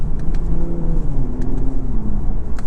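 A 2021 Infiniti Q50 Red Sport 400 engine pulling hard under acceleration, its 7-speed automatic shifting quickly as the engine note rises, drops and climbs again, loud and steady from inside the cabin.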